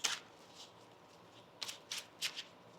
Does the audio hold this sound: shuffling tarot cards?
yes